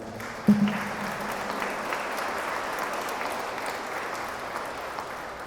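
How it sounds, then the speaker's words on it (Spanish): Wedding guests in a church give a warm round of applause for the couple's parents and godparents, a soft, steady crowd clapping heard from a moderate distance after one sharp knock at the start. "Vamos a darles a ellos un fuerte aplauso."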